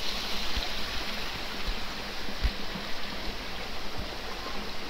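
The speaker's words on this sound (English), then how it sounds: "And here we have this fountain that I saw from the other side of the river." Steady broadband rush of water from a park fountain in Wilton Lodge Park, Hawick, Scotland, continuous and fairly close, with no talk.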